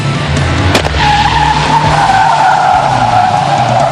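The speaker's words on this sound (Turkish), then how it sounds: "yankılanan bu fren sesleri usta yarışçılara değil İstanbul polisine ait" Loud, sustained tire screech from an Istanbul police car skidding hard under braking on a training track, with engine noise, close and continuous.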